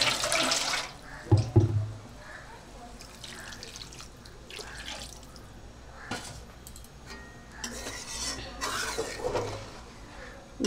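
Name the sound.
pouring turmeric water into a pan of fish curry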